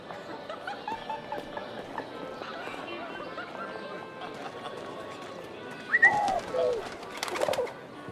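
Pigeons coo and flutter in the video game 11-11 Memories Retold, with a burst of bird calls late in the clip beneath ongoing character dialogue and ambient game sound.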